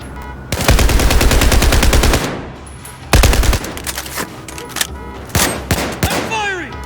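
Rapid machine gun bursts rattle in Battlefield 4 combat, loud and close, with two long sustained volleys followed by scattered single shots and shorter bursts.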